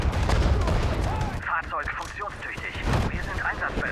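Tiger tank firing armour-piercing rounds in the World War II strategy game Sudden Strike 4, heavy cannon booms and gunfire layered with battle noise while someone talks over it.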